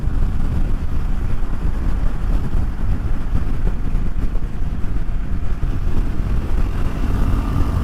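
Continuous low rumble of a KTM 390 Adventure motorcycle underway, engine drone mixed with rushing wind noise, steady and close throughout.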